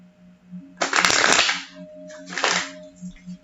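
A deck of tarot cards is shuffled in two quick riffling bursts, the first longer, close and crisp over a faint steady background hum.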